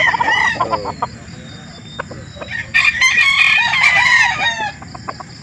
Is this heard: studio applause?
no